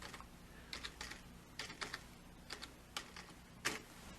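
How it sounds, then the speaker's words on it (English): Keys clatter on a computer keyboard in short irregular clusters of taps, quiet and close against a faint steady hum, with no voices. "I'm going to type in storeroom"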